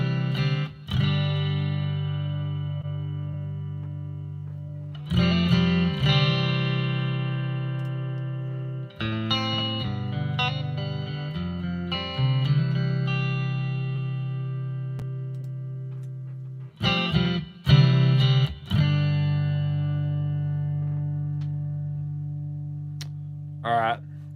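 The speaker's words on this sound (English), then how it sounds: "let's add a reverb here. Reverb, 11 reverb." Sustained, low bass guitar notes ring out through a plate reverb with a wide, shimmering tail, played in slow chords that decay and are restruck several times.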